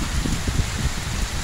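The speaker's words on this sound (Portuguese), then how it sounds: "Mas muita chuva, graças a Deus." Heavy rain pours steadily at the Castanhão reservoir in Jaguaribara, a loud dense hiss of drops with low rumbling spatter and no pauses.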